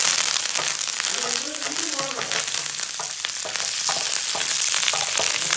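Mustard seeds and green chilies fry in hot oil for a Kerala masala curry, making a loud, dense crackling sizzle throughout, with a voice briefly audible underneath.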